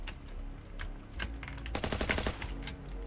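Gunfire rings out in The Good of the Company video game, with rapid machine-gun bursts and scattered single shots, dense and clattering, peaking near the middle before trailing off, and no voices.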